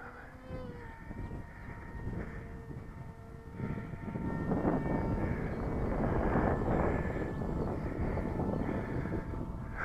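An enlarged ASG-32 model motor glider climbs at full throttle, its motor giving a steady, buzzing hum that grows slightly louder and rougher, with some wind noise across the microphone.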